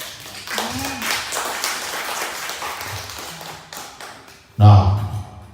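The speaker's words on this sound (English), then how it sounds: "Let us give Jesus Christ a mighty hand of applause" A church congregation bursts into a short, loud round of hand clapping near the end, after a stretch of talking over the room.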